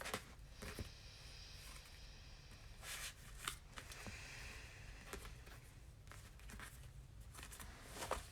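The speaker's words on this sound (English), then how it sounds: "I'm gonna cut the deck." Tarot cards being cut and shuffled in a quiet room at night, with several soft papery riffles and taps standing out near the microphone over a low steady background hum.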